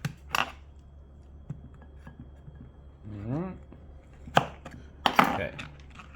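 A knife cuts a lemon into quarters on a board while prawn cocktail is prepared, giving a few sharp, close chops spread across several seconds, with a short stretch of voice between them.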